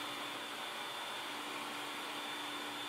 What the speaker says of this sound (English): Cut the 4 outside relief grooves by running each side along the fence.